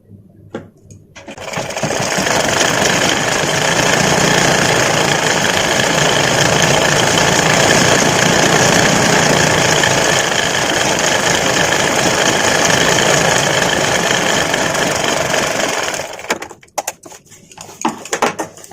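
A sewing machine stitches a petticoat, running in one long loud buzzing burst for about fifteen seconds. It starts and stops with a few short clicks and fabric handling sounds at either end.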